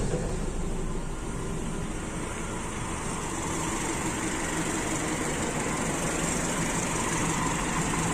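A Toyota Kijang engine with an Aisan carburetor idles steadily, a dense, even rumble with a faint high whine, close and constant with no talk.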